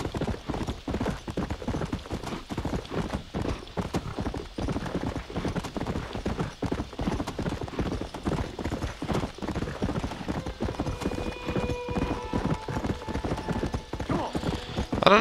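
A horse gallops in the Red Dead Redemption video game, its hooves beating a fast, even clip-clop rhythm throughout, loud and close, with a faint ringing tone creeping in toward the end.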